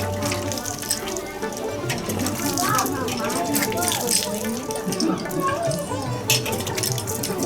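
Clean water running from a tap for handwashing, a continuous splashing stream with drips, while someone talks over it throughout.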